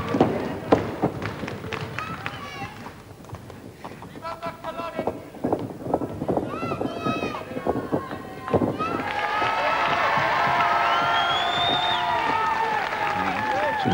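A 1990 Aberdeen wrestling crowd cheers and roars throughout a best-of-three-falls bout, dense and loud, with thumps from the ring and a commentator talking over it, swelling into sustained shouting in the second half.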